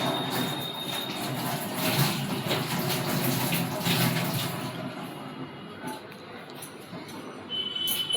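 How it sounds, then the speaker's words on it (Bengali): Water splashes and runs steadily as dishes are washed in a basin in a home kitchen, a continuous close wash of splatter and trickle that thins out in the second half. "যতই তুমি গামলিতে বাসন রাখো না কেন, চারিদিকে জল একটু পড়েই ছিটে ফোটা"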